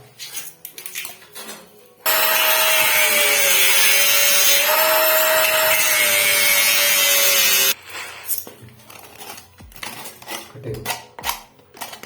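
A hacksaw blade cuts through the hard plastic of a concealed toilet tank fitting, giving one loud, continuous rasping stretch of about six seconds between quieter handling and knocking noises.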